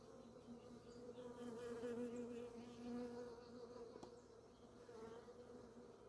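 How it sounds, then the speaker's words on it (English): Honey bees buzz from an open nuc hive box, a steady, dense drone of many insects that swells gently and stays fairly faint and close throughout, with no talking over it. "Lots of bees."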